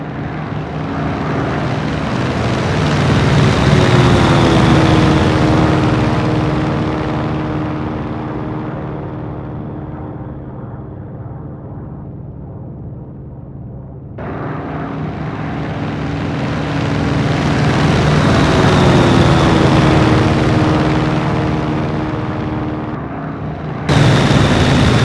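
A P-47D Thunderbolt's radial piston engine drones in flight in a combat flight game at about 13,000 feet with an overspeed condition. The loud, steady engine roar swells and fades, cuts briefly and returns without any talk.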